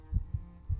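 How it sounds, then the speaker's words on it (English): A heartbeat sound effect in an interactive fiction video game gives three low, muffled thumps in under a second, close and alone. "You can feel your heart beating through your ears."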